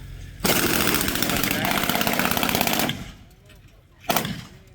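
Sustained automatic gunfire as covering fire from a Land Rover engaging Iraqi soldiers, a loud rapid burst lasting a few seconds, then a pause and a short renewed burst, with a voice audible in the background.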